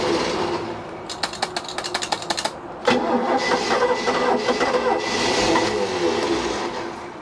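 Engine of a 1988 Bayliner Avanti 3250 yacht that sat unused for over six years, cranking in a rapid stutter of turns, then catching with a sudden burst and running rough at a steady drone.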